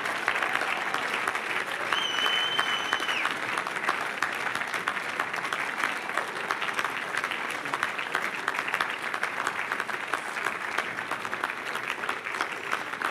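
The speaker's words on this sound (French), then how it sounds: "acclamez pour Jésus" A church congregation claps and cheers for Jesus in sustained, dense applause that keeps an even, full level throughout, with a brief high whistle-like tone early on.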